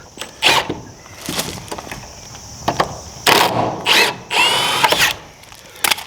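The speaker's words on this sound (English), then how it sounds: "now I'm going to take these screws out that are on the bottom here" A power drill backs screws out of exterior wood framing in several short whirring bursts with ratcheting clicks and brief pauses between, close and loud, with no talking.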